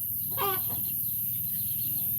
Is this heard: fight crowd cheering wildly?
no